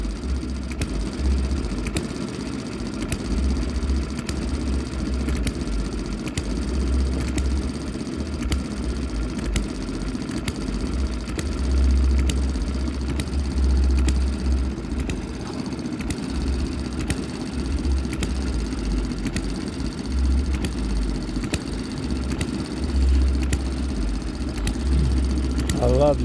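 A small model hit and miss engine runs steadily, its sharp ticks and pops recurring at an even, fairly slow beat over a low mechanical hum for the whole stretch.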